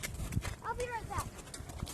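Horse hooves clop on a farm in a short burst of close, uneven footfalls, with a voice speaking over them.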